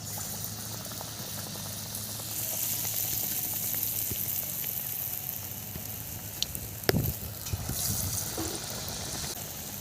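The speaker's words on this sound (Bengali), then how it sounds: "তেল গরম হয়ে গেছে। এবারে আমি বেগুনগুলো ছেড়ে দেব।" Eggplant pieces fry in hot oil with a faint, steady sizzle and bubbling. A sharp clatter of something being dropped into the pan comes partway through, with no talking.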